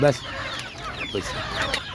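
A chicken clucks in short bursts close by, a few brief calls over a quiet room background.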